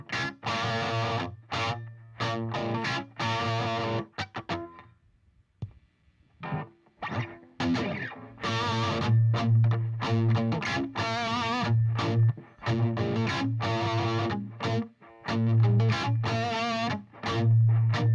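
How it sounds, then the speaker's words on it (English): Voice processed through a distortion and echo effect unit, with chopped, heavily treated phrases that stop and start in loud bursts and short gaps, repeating with a smeared, ringing tail. "I don't know if I sound badass with echo, Wayne, but that's funny."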